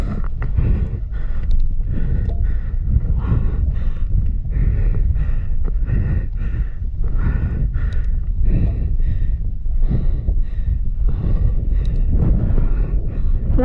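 Steady wind buffeting a microphone outdoors during a mountain bike ride, a constant loud rumbling roar with gusty fluctuations throughout and no speech.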